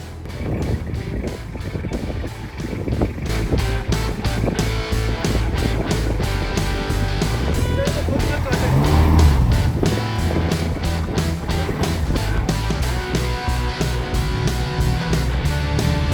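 A steady off-road vehicle engine drones continuously while driving a steep mountain track in Kashmir in winter, loud and close with wind buffeting the microphone throughout.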